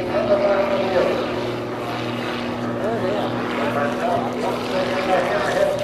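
A propeller aircraft engine at the EAA AirVenture Oshkosh 2008 airshow during a hammerhead turn, heard as a steady, moderately distant drone that holds throughout with faint background voices.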